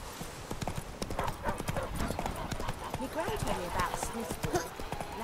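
Roach the horse galloping in The Witcher 3, rapid rhythmic hoofbeats clopping close by with a brief whinny, while a voice talks over the hooves.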